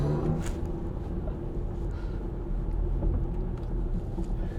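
2023 BMW iX M60 electric SUV accelerating hard, heard from inside as a steady low road and motor rumble with a faint whine, moderately quiet and continuous, no talk.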